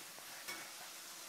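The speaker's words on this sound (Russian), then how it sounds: "Все шкварчит, все шипит." Vegetarian borscht ingredients sizzle and fry softly in a pan, a faint steady hiss with a brief stir around the half-second mark, no voices.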